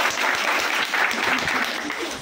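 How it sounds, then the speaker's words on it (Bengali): Applause for a newly chosen group captain in a live general-knowledge quiz class, a steady patter of clapping hands lasting the whole short moment, fairly close, with a faint voice beneath. "হাততালি"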